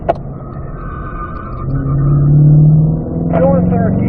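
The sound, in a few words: race car driven on a track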